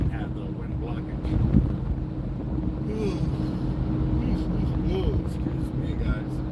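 A steady northern wind buffets the microphone on a beach fishing pier, a continuous low rumble throughout with faint distant sounds above it.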